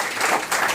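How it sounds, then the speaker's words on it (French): Live audience at a music show giving hearty applause, a loud, close, continuous burst of many hands clapping with no pauses. "Écoutez ces applaudissements nourris"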